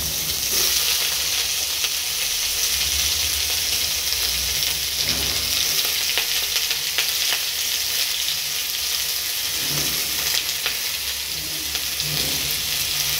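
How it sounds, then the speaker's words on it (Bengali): Potatoes and onions fry in a pan, making a loud, continuous sizzle with faint stirring scrapes and light taps through the whole stretch. "এবার আমি এটা ভেজে নেব আলু আর পেঁয়াজটাকে।"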